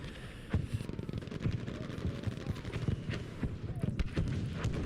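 Sector artillery shelling a capture point in an online conquest-mode team shooter match, with repeated booms and crackling impacts piling up in quick succession under a commentator's continuous voice.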